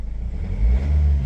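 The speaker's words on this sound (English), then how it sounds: "It's revving." A van engine, just back on the road after a major breakdown, revs up close by, a low rumble that swells midway and holds steady without talk.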